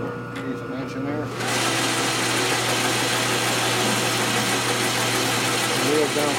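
A machine steadily cuts metal while a flywheel truing tool for a Milwaukee-Eight crankshaft is made, starting abruptly after a quieter moment and then running as a loud, constant, even grinding drone with a low hum underneath.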